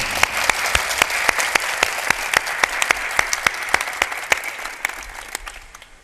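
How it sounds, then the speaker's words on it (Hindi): Audience at a spiritual satsang gathering clapping loudly in a steady, rhythmic beat, with sharp, evenly spaced claps that carry on throughout and fade slightly toward the end. "आपकी तालियां भी जोरदार बजनी चाहिए"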